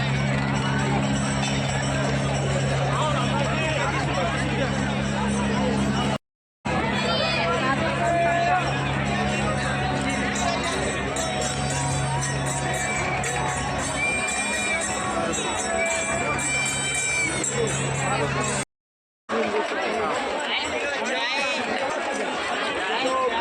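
A dense crowd of pilgrims bathing at the Mahakumbh in Prayagraj makes loud, continuous chatter and shouting, broken by two brief dropouts.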